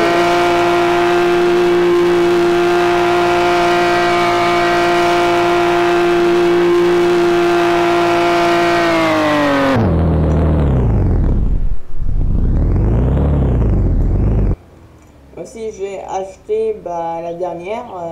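Car engine in a Roblox racing game, a Bugatti Vision among the cars, holding a steady harmonic drone that then shifts into sweeping rising and falling revs, loud throughout, with a quieter, choppier stretch at the end.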